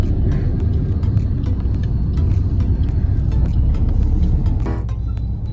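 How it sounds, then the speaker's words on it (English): Steady road traffic in Delhi near Dhaula Kuan, a dense low rumble of idling and creeping cars close by, with faint higher engine noise and a brief brighter vehicle burst near the end, no talking. "We are stuck in traffic and we are right now in Dholakua."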